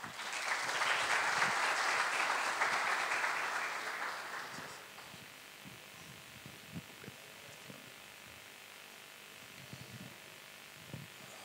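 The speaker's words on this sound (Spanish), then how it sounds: "Adelante, le recibimos también con un aplauso." Seminar audience at an international precision agriculture event applauds to welcome a speaker, a moderate burst of clapping for about four seconds that fades out, followed by quiet room noise, shuffling and faint sounds.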